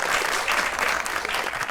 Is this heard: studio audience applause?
yes